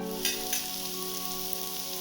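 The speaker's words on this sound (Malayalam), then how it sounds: "ഉള്ളി സ്ലൈസ് ആക്കിയത് ചേർത്ത് കൊടുക്കാം." Sliced onions fry in hot oil in a pan while cooking a spicy macaroni biryani, giving a steady close sizzle with a couple of light stirring clicks.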